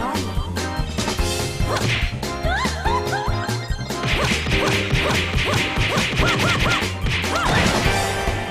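Sadist Whip attack in the video game Trails in the Sky, a run of loud whip cracks, whooshes and hits layered over the game's music for the whole stretch, with no talking.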